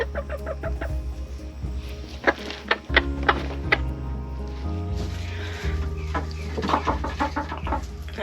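Several hens cluck repeatedly at close range, their calls overlapping in an uneven rhythm with some scratching and shuffling around them.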